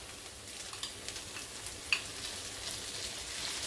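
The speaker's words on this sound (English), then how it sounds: "Put them in it first and just let them sear on one side." Shrimp searing in a hot pan for lettuce wraps, a steady soft sizzle with faint crackles and one sharp pop, close and alone with no talking.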